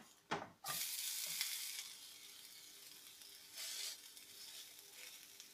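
Rava uttapam, a semolina pancake, sizzling on a hot pan just after flipping; a sharp tap opens a soft, steady hiss that swells again briefly, close and fairly quiet with no talking.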